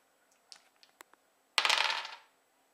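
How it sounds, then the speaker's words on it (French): Dice rolled during a game of Célestia: a few light scattered clicks, then a sharp clattering rattle on the table that quickly fades away. "il lance les dés"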